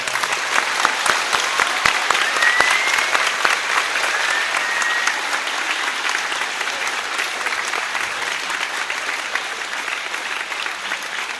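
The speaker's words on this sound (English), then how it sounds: "I'd like to give one more round of applause for those veterans that have came to be with us today." A round of applause for veterans at a Hills Chapel Veterans Day program, a sustained, full-room burst of clapping that holds steady for over ten seconds with no speech over it.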